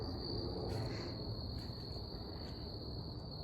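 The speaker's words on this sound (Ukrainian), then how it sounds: "цвіркуни." A steady, high continuous chirping of crickets at night, constant and unbroken, over a faint low background hum.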